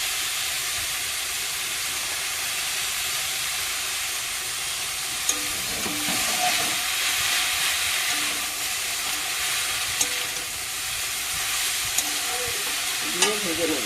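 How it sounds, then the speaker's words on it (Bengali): Pointed gourds stuffed with filling and sealed with besan and cornflour batter fry in oil in a kadai, making a loud, continuous hissing sizzle with a few faint clinks of stirring, and no voices. "পটলগুলো পুর ভরে তার মুখে এবারে একটু বেসন আর কর্নফ্লাওয়ার গুলে মুখগুলো একটু দিয়েছি, দিয়ে এই কড়াইতে ভেজে দিচ্ছি"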